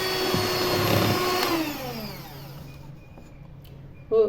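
An electric beater whips 100 grams of butter for a plum cake, a loud steady whir for about a second and a half, then winding down and trailing off, followed by a brief clatter near the end.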